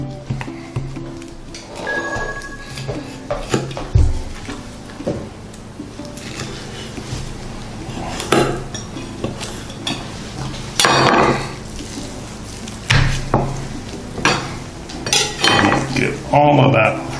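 A knife cuts through a thick 1.52 kg tomahawk steak down to the bone, with close scraping and knocking on the board, clattering utensils and louder thuds in bursts, continuing throughout.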